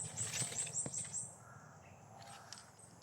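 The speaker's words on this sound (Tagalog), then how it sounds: "Ayan yung mga uwak." Crows give a quick run of several caws in the first second, faint and somewhat distant, followed by quieter rustling and scattered bird sounds.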